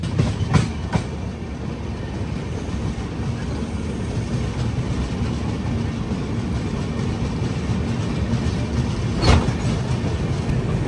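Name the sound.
train moving on rails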